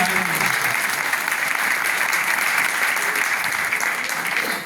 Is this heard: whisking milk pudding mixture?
no